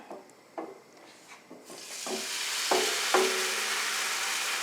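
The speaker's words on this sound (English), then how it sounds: "Mum says you always have to stir it every time you put the mixture in." A thin batter mixture is poured into a pan of hot oil for a Vietnamese dish. A few scattered utensil taps give way to a loud, continuous sizzle, with stirring scrapes and clinks on top.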